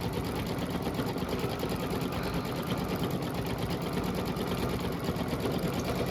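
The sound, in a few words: Babylock embroidery machine stitching a design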